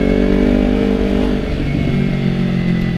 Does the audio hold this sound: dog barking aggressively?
no